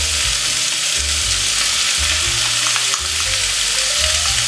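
Radish fries in a pot of Korean-style beef borscht, a loud, steady broadband sizzle with rhythmic low thumps and scrapes of stirring against the pot, close and without talk.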